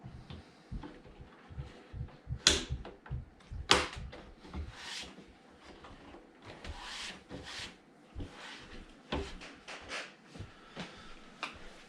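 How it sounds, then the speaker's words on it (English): Black interior trim pressed back into place in a 2015 Mercedes S63 AMG cabin, producing a close series of sharp plastic snaps and clicks between softer rubbing and handling noises, with no voices. "Now we just put this black trim on again."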